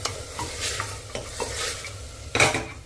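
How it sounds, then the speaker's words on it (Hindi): Green chillies and mutton are stir-fried over a low-medium flame, with a spatula scraping and clinking against the pan in uneven strokes over a soft sizzle and one louder scrape near the end. "अब इसे हमें 2-3 मिनट इसी तरह से भून लेना है, लो टू मीडियम फ्लेम पर चला चला के।"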